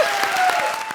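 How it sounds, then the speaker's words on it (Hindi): Studio audience applause on a Hindi television comedy show after an award presentation, a short burst of loud, dense clapping heard on its own with a faint tone running underneath. "जोरदार तालियां हो जाएं।"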